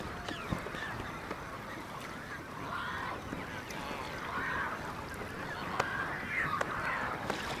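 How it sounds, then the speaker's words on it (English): A large flock of flamingos calls across a Botswana salt pan, a steady honking, goose-like chorus that swells and fades in overlapping waves, distant and continuous. "The southern part of the pan is a mecca for all of southern Africa's flamingos."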